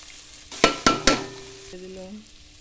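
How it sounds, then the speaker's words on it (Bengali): Chow mein noodles are stir-fried with potato, capsicum and carrot in a home kitchen pan, with three sharp metallic scrapes and clanks and a ringing pan tone under a faint sizzle, with no talk. "আলু, ক্যাপসিকাম, গাজরটাকে একটু সুন্দর করে ভেজে নিলাম। কি অল্প হয়, চাউমিন দিয়ে দিলাম।"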